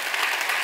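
Warm, steady applause from an audience at the close of a theatre performance, a dense and even clapping that fills the room without any voices on top.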